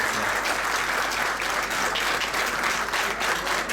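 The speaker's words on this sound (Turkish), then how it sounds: "Alkışlarla lütfen. Biraz daha alkışlarla." An audience at a ceremony claps steadily and loudly throughout, a dense, even wash of many hands with no pauses and no voices on top.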